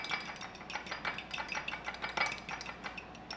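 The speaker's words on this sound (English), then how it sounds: "We're gonna beat that a little bit with a fork." A fork rapidly beats a single egg in a bowl, giving quick rhythmic clinking taps against the side, close and continuous throughout, with no voices.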